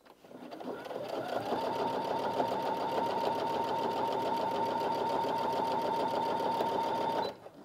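A Brother Innov-is A150 domestic sewing machine stitches steadily at speed, a loud continuous whirring hum with rapid needle clatter running for about six seconds before stopping, with no talk over it.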